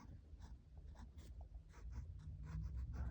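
A pen scratches out a hand-drawn sigil on paper, soft and close, in short irregular strokes with small pauses, quiet and without talk.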